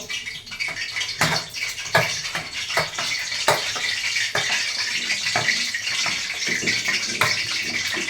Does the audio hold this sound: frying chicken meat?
yes